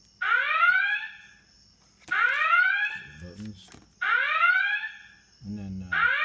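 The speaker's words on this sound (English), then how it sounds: "Red Alert." Star Trek red alert klaxon from a Captain Kirk command chair replica, sounding as three loud rising whooping blasts with a fourth starting, separated by short gaps where low clicks and knocks come through.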